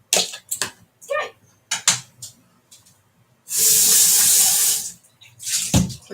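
Tap water runs steadily into a salad bowl being rinsed at a kitchen sink, a loud continuous gush lasting about a second and a half, set between clatters of handling and brief speech.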